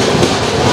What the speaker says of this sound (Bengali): আর এই মেছেদা স্টেশন ছেড়ে দিল।